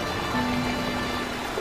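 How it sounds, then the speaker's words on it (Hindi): Heavy rain pouring steadily in a cartoon, a dense even hiss of drops with no talk over it. "बारिश बहुत ज्यादा तेज थी।"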